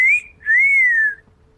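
A person whistles two rising-and-falling tones, a short note followed by a longer sliding one, loud and close against a quiet background.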